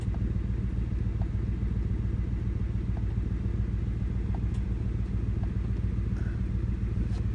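An air suspension vent solenoid on a car clicks faintly about once a second during a bi-directional scan tool test, the ticks sitting beneath a constant low engine rumble.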